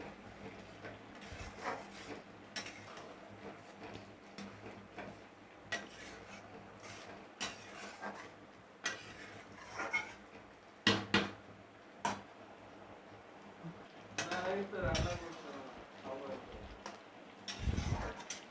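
A utensil clinks and scrapes against a cooking pan while tadka is stirred with butter, giving scattered metallic taps and knocks over a quiet background as someone talks.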